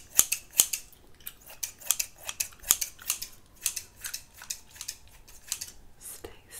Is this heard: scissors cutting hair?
yes